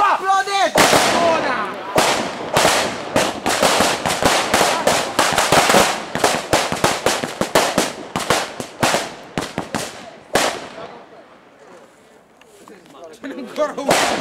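Halloween firecrackers go off in a rapid, irregular barrage of loud, sharp cracks for about ten seconds, then a few scattered pops. Voices shout and talk between the blasts.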